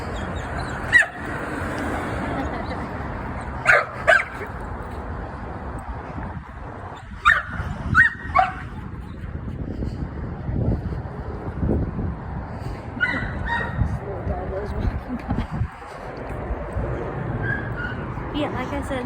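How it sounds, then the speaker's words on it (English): A dog barks and whimpers in Balboa Park in the morning, with short yips scattered among steady outdoor ambience while people talk throughout. "There's another dog over here."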